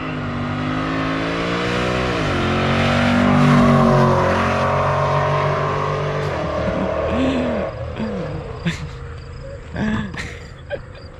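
A cammed Pontiac G8 roars as it accelerates past, its engine note climbing then dropping away. The loud pass fades to a fainter idle with a few sharp transient sounds.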